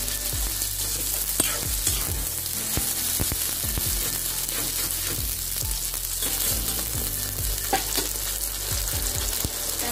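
Ginger garlic paste fries in a pan with onions, a constant close sizzle broken by repeated scraping and clacking strokes of a spoon as it is stirred.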